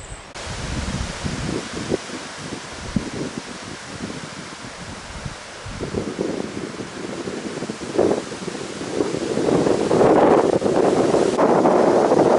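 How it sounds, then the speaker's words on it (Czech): Strong, gusty wind blows across open country on a hill, in a valley or by a stream. The rushing roar buffets the microphone and swells louder and harsher toward the end. "Všude vichr všemi směry."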